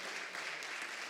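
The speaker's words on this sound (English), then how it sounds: "can we get a huge round of applause for these people" A conference audience at a PyData Eindhoven closing session applauds its volunteers with a brief, dense wash of clapping, steady and fairly loud throughout.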